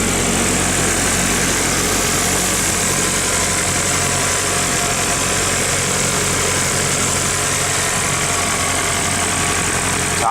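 A Nissan 180SX engine idles steadily at close range while warming up, a continuous low rumble with a faint mechanical whine layered on top, no voices present.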